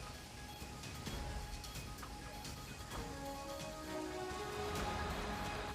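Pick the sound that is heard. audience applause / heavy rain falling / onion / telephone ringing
heavy rain falling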